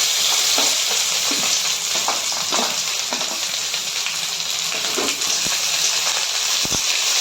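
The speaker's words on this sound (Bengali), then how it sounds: "কুচি করা পেঁয়াজগুলো ছেড়ে দিলাম।" Chopped onions hit hot oil along with bay leaf, cinnamon and cardamom, giving a steady loud sizzle and crackle that runs without pause, with occasional stirring scrapes in the pan.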